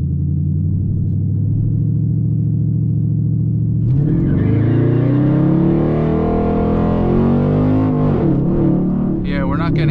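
A Dodge SRT8 spins its tires without traction during a launch: a steady engine drone rises into a loud, revving roar with harsh scrubbing noise, and no voices over it.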